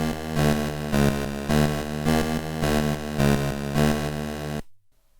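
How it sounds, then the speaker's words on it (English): A TI BASIC computer's noise generator plays periodic noise with tone harmonics, a low, creepy buzzing note repeated in even, pulsing bursts about every second, loud and alone, before cutting off abruptly. "so I'm going to play it on the noise generator as periodic noise,"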